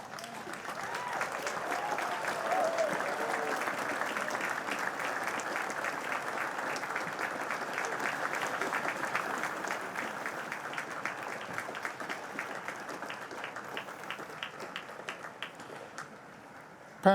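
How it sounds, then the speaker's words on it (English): A large audience at Bucknell University's 2018 commencement ceremony applauds in one long, steady round of clapping. It stays dense and even throughout, fading slightly near the end. "with a great round of applause, thank them for their dedication to your success"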